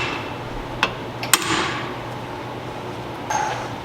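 A hammer strikes a part during a brake pad and rotor job on a 2000 Honda Civic Si, giving a couple of sharp close metallic taps over a quiet workshop background.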